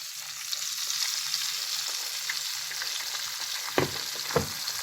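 Eggs fry in melted butter in a pan, a soft steady sizzle with faint crackles and a couple of louder stirring scrapes near the end.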